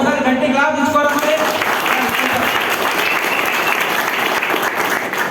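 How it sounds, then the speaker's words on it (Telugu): Audience at a business seminar claps loudly and steadily, dense applause filling the room from start to finish, with some voices mixed in early on. "ఒకసారి గట్టి క్లాప్ తీసుకోవాలి."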